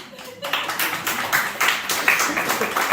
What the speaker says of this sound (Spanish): Está aplaudiendo la niña, bendito Dios.